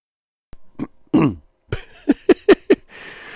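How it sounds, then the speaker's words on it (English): A person coughs several times in a row: one isolated cough, a heavy rasping cough, then a quick run of four short sharp coughs, close to the mic in a quiet room. "I do have to cough."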